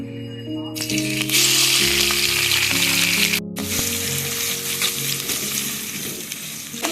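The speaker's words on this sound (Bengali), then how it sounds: "আমরা এবার এই তেলটাতে পেঁয়াজটা হালকা লাল করে ভেজে নেব।" Onions frying in hot oil, a loud bright sizzle starting abruptly and holding steady, briefly cut, then continuing with stirring.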